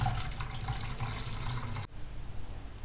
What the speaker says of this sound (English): I'm now going to add the vinegar,